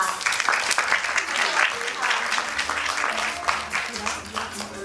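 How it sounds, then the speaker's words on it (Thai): Loud, steady applause from an audience fills the whole clip, with voices mixed in. "ขอ เสียงปรบมือต้อนรับ"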